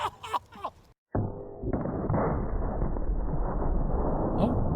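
A voice speaks briefly, then after a short silence a single heavy 2-bore shot firing a half-pound ball bangs into a 55-gallon steel water drum, followed by a few seconds of steady rushing, splashing noise.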